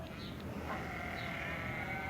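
A sheep bleats in a drawn-out, wavering cry, heard alone and fairly close against a steady background hum.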